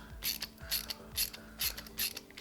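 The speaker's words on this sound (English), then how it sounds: "we got 2 more Phillips screws here. So let's try and unscrew these" Ratcheting screwdriver clicking steadily as it backs out Phillips screws on a magnetic bike trainer, a close, crisp series of rhythmic ratchet clicks with no talk.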